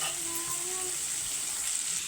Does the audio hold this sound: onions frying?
yes